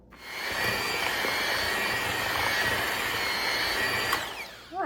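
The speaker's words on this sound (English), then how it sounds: "use your mixer after you get the flour incorporated" An electric hand mixer whirs steadily through cookie dough with flour for orange pecan cookies, a continuous close motor drone with a faint high whine, no talking.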